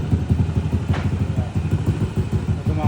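A 232cc motorcycle engine sputters and runs unevenly on a weak battery, a loud, close, rough chugging with irregular pulses that surge and dip throughout, no talk over it.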